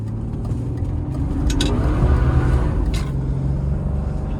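A 1993 BMW E36 325i automatic drives along with a steady mid-pitched engine drone and road rumble from inside the cabin, swelling slightly under light acceleration.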